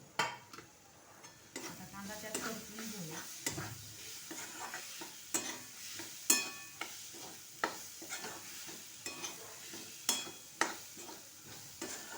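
Onion and green chilli sizzle in a pan for paneer bhurji. A spoon stirs them in a steady run of scraping strokes with sharp clinks on the metal, heard fairly close over a constant frying hiss.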